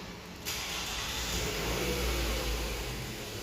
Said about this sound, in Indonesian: kita putar kuncinya dan kita nyalain si mesinnya Harrier ini